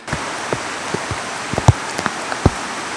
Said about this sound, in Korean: 우중 캠핑을 할 것 같아서 타프도 챙겨왔는데 비가 애매하게 내려가지고